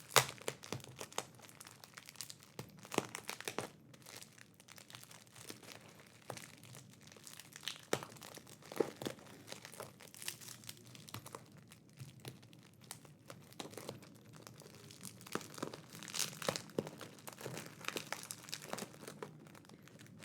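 Plastic packaging crinkles and crunches continuously while being torn and pulled apart, with irregular bursts of rustling and ripping, close up.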